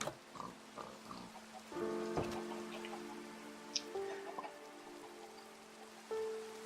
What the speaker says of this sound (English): Oh, it's raining on the surface.